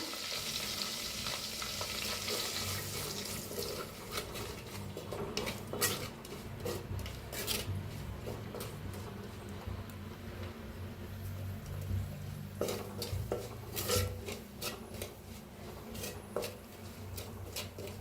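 Leftover masala with coriander, onion, turmeric and red chili roasting in a pan, crackling sizzle with frequent spatula scrapes and clinks against the metal, close and busy, no talk.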